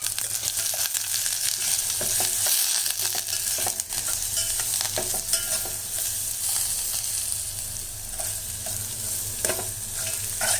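Crushed pepper, cumin, dal, coriander seed and garlic sizzle loudly in oil over a low flame for garlic rasam, with repeated scraping strokes of a spoon through a steady hiss.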